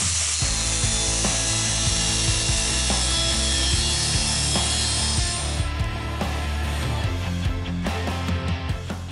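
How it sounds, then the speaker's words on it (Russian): A file rasps steadily against a metal pipe elbow being shaped for a tight welded fit, a continuous close, gritty scraping with rhythmic strokes and small knocks throughout, no voices. "Поэтому отвод сейчас необходимо подпилить так, чтобы все плотненько сварилось."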